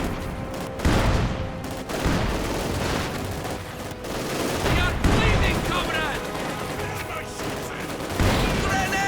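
Field gun and machine gun fire in Company of Heroes 2 during a 1v1 match, with repeated heavy booms and rattling bursts of gunfire continuing throughout under a caster's commentary.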